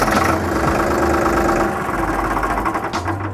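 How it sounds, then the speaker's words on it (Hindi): A Farmtrac Champion 39 tractor engine runs in neutral, a loud, steady mid-to-low diesel rumble with a knocking idle throughout, close to the listener. "देखिए अभी चालू करने की कोशिश करूंगा और ये चालू हो जाएगा"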